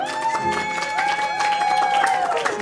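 Crowd applause and cheering break out during a memorial livestream, a steady, moderately loud wash of clapping heard beneath sustained tonal music or a held voice.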